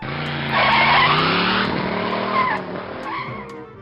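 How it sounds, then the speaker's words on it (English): A car pulls away with a loud tire squeal and engine roar that swells and holds, then fades as it drives off, used as a sound effect with no voices. "Then Lori ran out and got into her car and drove to ASU because ASU's far."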